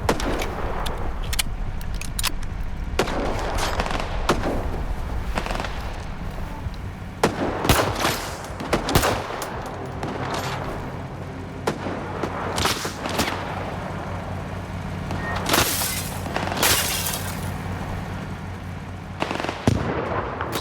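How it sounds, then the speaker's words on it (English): Shotgun fire in the video game S.T.A.L.K.E.R. 2, loud sharp blasts going off repeatedly at irregular intervals over a constant rumbling background of game ambience. "Guy shooting at us with a shotgun."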